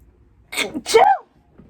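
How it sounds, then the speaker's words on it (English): A single sneeze, a sharp intake then a forceful burst, close and loud in an otherwise quiet room. "Oh my god, I went to sneeze."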